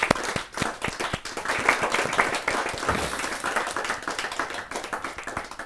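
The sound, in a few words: audience applause at Hindi poetry gathering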